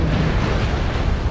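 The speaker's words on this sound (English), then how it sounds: "There's too many explosions." Dense, continuous rumbling explosions and booming blasts from a shooter video game, filling the whole stretch loudly and steadily with no clear gaps.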